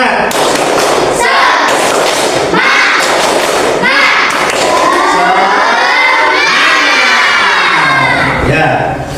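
A class of schoolchildren loudly shouts the tepuk semangat chant together, punctuating it with sharp group claps and thumps in a rhythmic, energetic burst close by.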